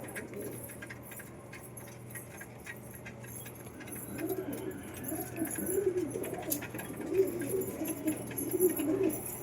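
A pet pigeon coos in a series of soft, rolling calls that build up from the midpoint and continue to the end, close by over a low steady hum and faint background noise.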